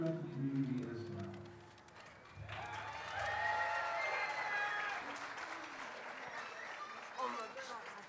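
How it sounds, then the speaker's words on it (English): An audience applauds after an elementary school choir's holiday concert. Talk opens the clip, then steady clapping swells and carries on under scattered voices. "Please give a round of applause one more time to Coyote Springs Choir and Mr. David Johnson."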